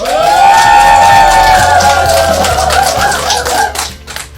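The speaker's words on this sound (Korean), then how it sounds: "다 같이 응원의 박수 한번 쳐볼까요?" An audience at a village radio program cheers and claps, loud and close, over a sustained musical tone, with the applause swelling toward the end.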